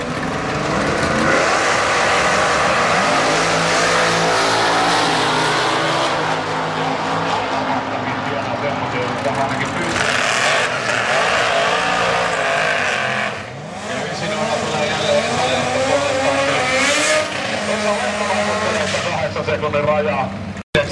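Drag racing cars at the 2013 FHRA Finals launch and roar down the track: loud, sustained engine revving and acceleration with a brief dip midway, under continuous commentary.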